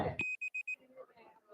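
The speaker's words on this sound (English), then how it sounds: "I heard a beep." An audio device hitting its maximum level gives a short series of four clean, high electronic beeps, evenly spaced and close, right after a burst of speech, with faint murmuring voices trailing beneath.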